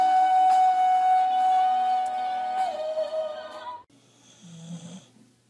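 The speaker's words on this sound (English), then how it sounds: "Are you snoring?" Loud, droning snoring close by, sustained for a few seconds before dropping to a quieter, rougher breath.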